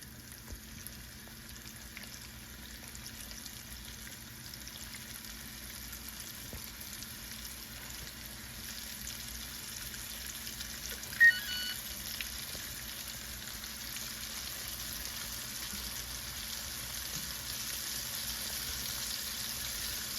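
Panko-coated sea bass pieces pan-fry in hot oil, giving a soft, steady sizzle that runs unbroken and fairly quiet throughout, with one brief faint tick partway through and no talking.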